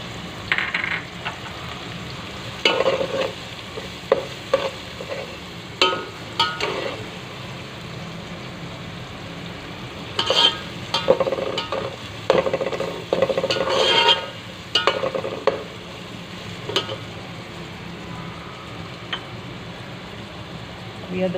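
Onions and spices such as asafoetida frying in a pan and being stirred, with soft sizzling and intermittent scraping and clinking bursts under occasional talk.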